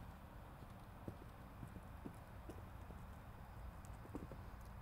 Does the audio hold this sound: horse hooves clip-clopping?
yes